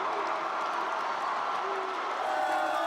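A large indoor crowd at a political party convention cheers and applauds in a continuous roar, with whoops and a murmur of voices blended into the din.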